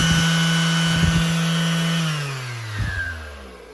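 A Makita cordless random orbital sander hums loudly and steadily on its own, its motor tone dropping slightly near the end as it winds down, with a few light knocks.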